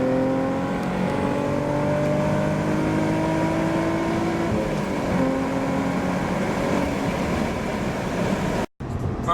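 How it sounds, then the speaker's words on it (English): An Infiniti G35 engine drones loudly and steadily from inside the car as it is revved to match a downshift into third, its pitch gliding up, before a brief dropout near the end. "so you want to get to third, you're going to downshift. That's it, rev it to about 5."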